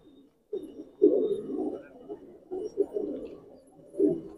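Pigeons coo in a loft of Madrasi breed birds, low rounded calls rising in several bursts over about four seconds, close and moderately loud, with no talk.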